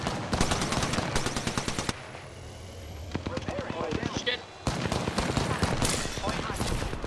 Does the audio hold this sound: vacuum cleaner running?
no